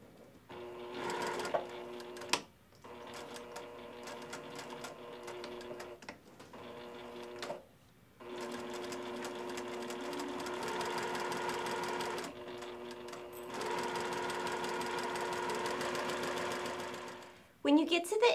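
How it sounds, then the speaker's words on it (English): A sewing machine stitching a quilt border with a backstitch, running in several bursts of steady, close mechanical whirring with brief stops between, while a person talks. "We're gonna put our needle down directly into the drawn line and we're going to take a few stitches and back stitch"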